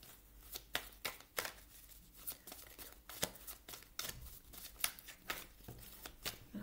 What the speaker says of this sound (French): Alors je remélange parce que j'étais pas concentrée les amis. Je remélangeais votre jeu